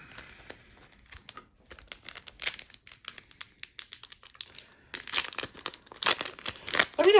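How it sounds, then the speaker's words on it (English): A trading card booster pack is torn open up close, with crinkling foil and ripping bursts that grow louder and denser toward the end. "Let's rip open a pack real quick."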